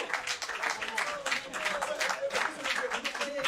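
An audience applauding at a Cheikh Anta Diop Day event, dense continuous clapping with a few pulses of louder enthusiasm, steady from start to finish.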